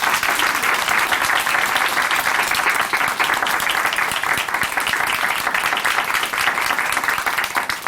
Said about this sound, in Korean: 귀한 간증 들려주신 차유미 자매님께 우리 다시 한번 큰 박수 보내드릴게요.